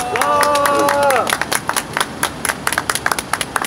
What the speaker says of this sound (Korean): 국민들께 감사드리고 또 박수 부탁드리겠습니다